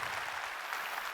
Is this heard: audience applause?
yes